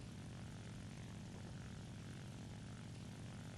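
The propeller engine of a Nakajima Ki-43-II fighter climbs in War Thunder, a steady, droning low-pitched roar that stays constant and fairly quiet throughout with no voices.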